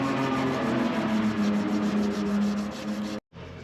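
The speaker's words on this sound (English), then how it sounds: "this is actually the first time we're going to try sandpaper the crank" An engine crankshaft is sanded by hand with sandpaper, giving a close, steady rhythmic rasping scrub that runs for about three seconds and then stops abruptly.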